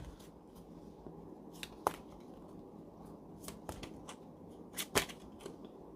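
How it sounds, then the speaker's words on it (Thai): Tarot cards are handled and shuffled close by, making soft papery rustles with several sharper flicks and slaps of the cards against a quiet background. "ทีนี้เรามาดูไพ่สรุปความสัมพันธ์นะ"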